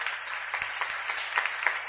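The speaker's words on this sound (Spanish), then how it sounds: "Un aplauso para la superquina." A lecture audience applauds, a steady, fairly quiet patter of many hands clapping with a low hum underneath and no speech.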